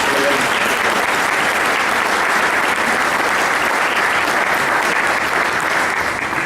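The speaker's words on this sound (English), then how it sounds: "let's have a round of applause." Loud, sustained round of applause from guests at a 100th birthday celebration luncheon, a dense even roar of clapping with no breaks.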